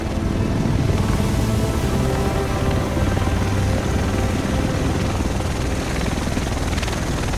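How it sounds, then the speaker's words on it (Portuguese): A helicopter arrives over the city in the video game Tom Clancy's The Division, its rotor chop and engine roar loud and continuous, pulsing steadily throughout with no one speaking. "O resto de nós deve estar nesse helicóptero."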